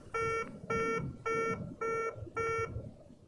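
A Concorde glide slope warning in the FlightGear flight simulator sounds as five evenly spaced electronic beeps in a steady rhythm over a low cockpit hum.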